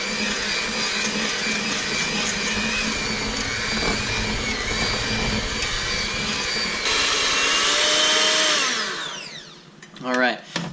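Electric mixer whirring steadily through thick peanut butter cookie dough for several seconds, loud and continuous, then winding down and stopping near the end.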